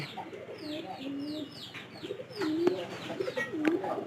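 Domestic pigeons in a loft, where the birds have started laying eggs, coo repeatedly in low rolling phrases, fairly close, with a few higher chirps and faint background noise, no talk.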